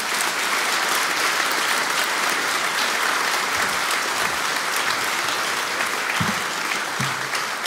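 Audience applause welcoming singers onto a stage, a dense continuous clapping from a sizable crowd that holds steady and loud for the whole stretch.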